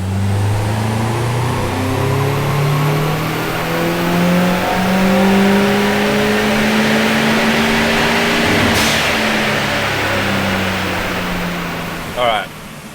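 A car engine on a dyno is held at wide open throttle in fourth gear, its droning tone climbing steadily in pitch for several seconds before a sharp metallic clatter and a brief burst near the end.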